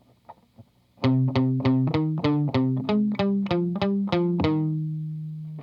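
A distorted electric guitar plays the first half of a riff, about a dozen picked notes in even rhythm, ending on a sustained note that rings out and fades.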